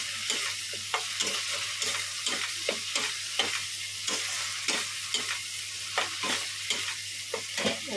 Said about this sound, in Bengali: মশলাটা কষিয়ে নিচ্ছি, ভালো করে কষাচ্ছি।